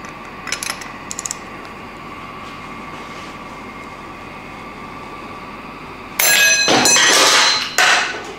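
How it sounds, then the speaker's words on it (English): Torque wrench tightening bolts on the pistons of a Ducati-powered land speed motorcycle engine: a few sharp metallic clicks early on, then a loud, harsh burst of mechanical noise near the end, up close in a workshop. "Next one is a 30, so use the bigger torque wrench for that."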